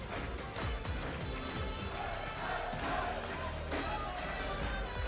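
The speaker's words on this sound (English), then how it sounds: "the band in-house starting to make some noise with the rest of the crowd" A dense, steady roar of a large crowd mixed with an in-house band at a Halo Championship Series esports event in London, with cheering and shouting throughout and loud, constant energy.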